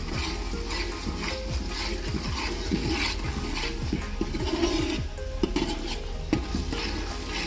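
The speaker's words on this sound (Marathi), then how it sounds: "आपण हा मसाला चांगला परतून घेऊया आणि त्यात जरासं थोडंसं पाणी टाकून व्यवस्थित परतून घेऊया" Chicken curry masala fries with a splash of water in a pot on a village wood-fired stove, giving a steady low sizzle under repeated spatula stirring and scraping up close.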